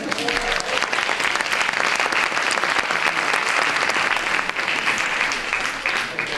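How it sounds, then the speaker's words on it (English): An audience applauds as a volunteer is called up onto the stage at a keynote talk, a dense, steady wash of clapping that holds for several seconds without a break. "Y'all clap her up here."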